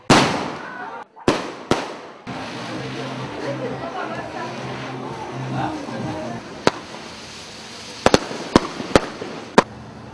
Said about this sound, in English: The city was full with the noise of bursting crackers.